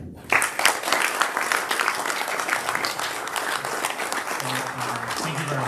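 A Rotary meeting audience applauds as a speaker is introduced, with loud, close, dense clapping that begins abruptly and continues for several seconds. A voice begins speaking toward the end.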